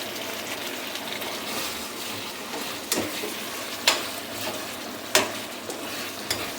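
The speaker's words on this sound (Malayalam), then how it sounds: "ഇത് മീൻകറിയാണ്. മീൻകറി ചൂടാക്കി വെച്ചിട്ട് കിടക്കാണ്." Fish curry heating in a pan, with a steady close sizzle and bubbling broken by a few sharper pops and stirring clicks, with no voices.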